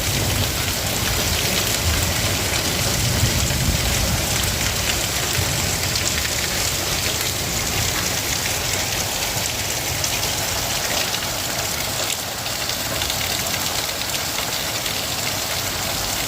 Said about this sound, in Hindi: ये नॉर्मल बारिश नहीं है बल्कि ओलों की बारिश है